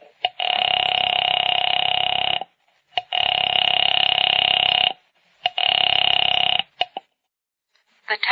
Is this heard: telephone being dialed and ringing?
yes